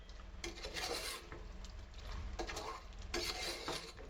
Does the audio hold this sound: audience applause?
no